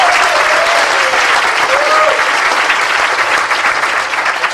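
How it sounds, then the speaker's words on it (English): A crowd at a 2012 school commencement applauds the valedictorian loudly and steadily, a dense wash of clapping sustained throughout with a brief cheer in the midst. "Let's give her a round of applause."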